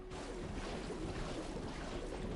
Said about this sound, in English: God, I hate the slushing sound.